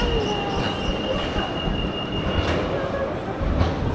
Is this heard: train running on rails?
yes